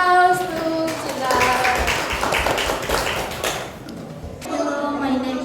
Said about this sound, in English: give applause to Cila